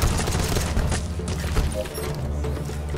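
Big guns fire continuously in the BE-A Walker video game, a dense, loud, rumbling barrage of booms and impacts lasting throughout with no pause.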